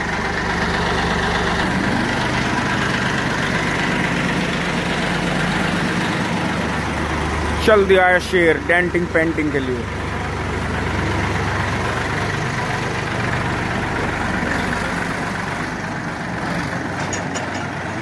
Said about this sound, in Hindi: बहुत ही गजब इंजन है इस ट्रैक्टर का।